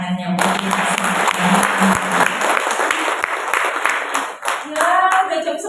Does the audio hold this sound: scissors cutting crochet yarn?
no